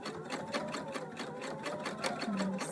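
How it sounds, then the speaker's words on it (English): A sewing machine back stitching while sewing a scarf, with steady, rapid needle strokes running continuously at close range and even volume, no voices over it. "And again, we'll back stitch."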